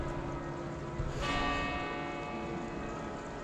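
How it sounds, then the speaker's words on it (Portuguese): Church bells ring in a city, a sustained resonant peal with lingering overtones heard from a moderate distance, fairly faint against steady ambient street noise, with no talking. "Batendo sinos"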